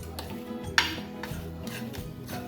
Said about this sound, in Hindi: अच्छी तरीके से हमने इसकी गर्मी में इसको मिक्स किया है